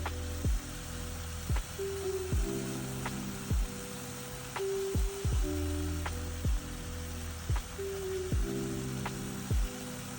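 Pork frying in a pan, a steady sizzle running throughout, broken by a regular series of sharp low knocks and brief ringing tones that repeat every second or so.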